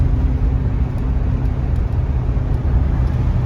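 Interior of a classic Ford or FoMoCo cruiser on the road, a steady low engine and tire rumble with road hiss, close and unbroken, and no one speaking.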